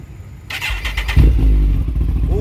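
A 2018 Kawasaki ZX-14R sport motorcycle starts on a cold morning: a brief starter whir, then the engine catches and settles into a loud, deep, throaty idle close by, with no revving.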